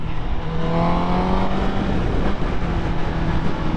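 A 2023 Honda CBR1000RR motorcycle engine climbs through a loud, close acceleration with a rising revving whine over strong wind rush.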